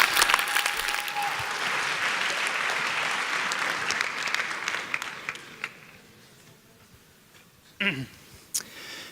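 An audience at a best-poster presentation for an EPFL sustainability event applauds in a dense, loud wash of clapping that gradually thins and fades out, leaving a few scattered sounds and a brief voice near the end.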